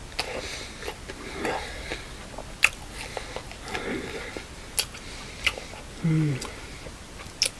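Someone eats supermarket grilled gyoza dumplings, with close, moist chewing and a series of crisp bites and small clicks at irregular intervals.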